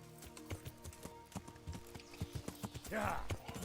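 Horse hooves gallop in a rapid, steady clip-clop rhythm in the medieval game Kingdom Come: Deliverance, with a brief whinny near the end and a voice talking over the hoofbeats.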